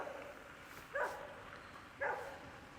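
A neighbor's dog barks twice, about a second apart, each a short distant-sounding bark over faint outdoor ambience with no talking.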